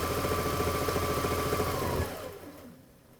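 The variable-speed DC motor of a Singer Quantum Stylist 9960 sewing machine hums close up with a steady pulsing whir, then slows and winds down over its final second.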